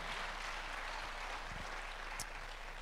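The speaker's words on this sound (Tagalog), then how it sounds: "pumalakpak ng malakas" A church congregation claps loudly, a dense, steady wash of applause that carries on evenly throughout without pauses.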